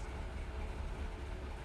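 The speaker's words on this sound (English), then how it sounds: "The back of his train is moving too." Freight train rolling along the tracks in the Run 8 Train Simulator game, a steady low rumble and faint wheel noise, continuous and fairly quiet.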